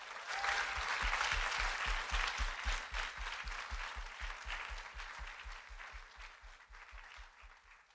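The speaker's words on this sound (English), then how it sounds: "I'd love to give another round of applause to all the academic scholars." Audience applause at a Bentonville Schools foundation event honoring academic scholars, a steady, dense round of clapping from a large crowd that holds strong for several seconds before gradually thinning and fading.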